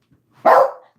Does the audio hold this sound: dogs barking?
yes